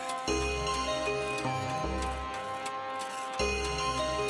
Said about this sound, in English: Broken, and there's strange grinding noise inside.